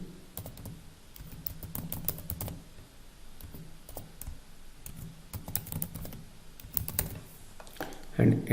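Computer keyboard typing while entering mobile number and email details on an online application form, soft rapid key clicks in irregular bursts under a faint background, with brief talk.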